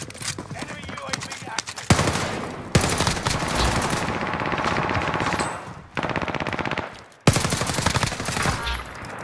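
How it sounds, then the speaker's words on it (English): Rapid automatic gunfire in a Warzone video game, loud bursts of sustained firing broken by brief pauses, with players talking over the shooting. "There's a guy that was shooting at me just barely, so careful."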